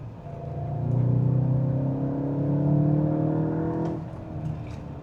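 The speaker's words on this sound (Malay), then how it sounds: "Bunyi exhaust dia pun dah tune, there's a bit of a growl, tapi tak loud sangat." A Volkswagen Golf GTI Mk8.5 on a highway gives a steady, moderately loud engine and exhaust hum from inside the car, its pitch rising as it accelerates and then falling away near the end.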